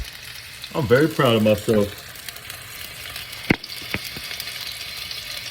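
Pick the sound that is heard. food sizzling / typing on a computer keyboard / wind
food sizzling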